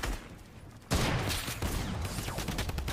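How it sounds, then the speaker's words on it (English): Rapid gunfire in Fortnite hammering a wall, starting abruptly after a quiet moment and continuing as a dense, loud volley of overlapping shots. "Alright, I'm shooting the sidewall."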